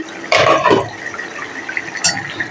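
A little water splashes briefly into a pan of rohu fish curry, a short close pour followed by faint kitchen clatter and a small clink.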